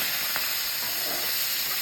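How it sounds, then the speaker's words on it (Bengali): Shrimp fry in a hot pan with a steady, close sizzling hiss and faint crackles, and no voices. "চিংড়ি মাছগুলো একদম ভাজা ভাজা চলছে সুন্দরভাবে"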